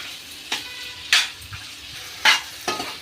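Mango pickle fries in oil in a pan, giving a steady low sizzle under four sharp scrapes of a spoon being stirred, spaced irregularly across a few seconds.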